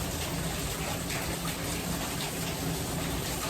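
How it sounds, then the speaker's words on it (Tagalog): Heavy rain from Typhoon Christine pours down in a dense, constant rush, loud and close, with no break or talk. "Sobrang lakas ng ulan."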